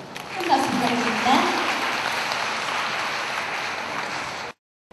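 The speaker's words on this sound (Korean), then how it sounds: "큰 박수 부탁드립니다" A seated audience claps steadily for a dog groomers' committee chair at a dog grooming event, a broad, even wash of applause lasting over four seconds before cutting off abruptly.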